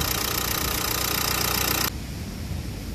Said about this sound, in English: Now this is the sound of the engine at idle.